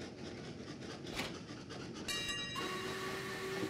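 Train running in the video game Train Valley, a steady rumbling rail sound with clicking undertones and a brief higher tonal hum near the end, moderately loud and continuous without talk.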